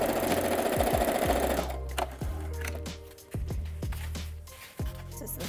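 A sewing machine stitches a fabric seam with a fast, steady mechanical chatter for the first couple of seconds. It then gives way to scattered knocks and short bursts, all close and fairly quiet.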